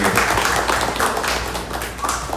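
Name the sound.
audience clapping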